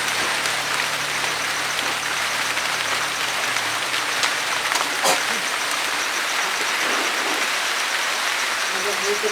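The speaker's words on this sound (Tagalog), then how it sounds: "Ayan na naman ang ulan." Steady rain hisses continuously on a surface, with a low rumble fading out early and a sharp knock midway.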